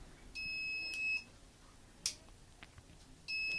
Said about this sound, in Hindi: तो रेड लाइट जलेगी और ये बजर साउंड करने लगेगा